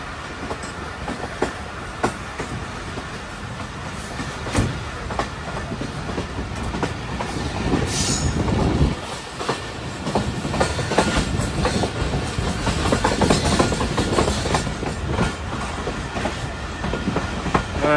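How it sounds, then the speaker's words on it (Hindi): The Subak Kharam railcar train runs between Rawalpindi and Jhelum in Punjab, making a continuous rolling rumble with clickety-clack rail joints that grows louder midway and stays steady, without talk. "इस वक्त 104 टाउन सुपर खरम रेल कार अपना पहला स्टॉप चकलाना रेलवे स्टेशन पे कर"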